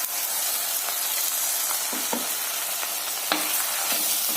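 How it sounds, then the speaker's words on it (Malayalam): Ground masala paste stirred into okra curry in a pan, with a steady close sizzle and scraping stirs, a few sharper clacks of the spoon, and no talking. "വെണ്ടയ്ക്കകത്ത് അരപ്പ് ചേർക്കുന്നു"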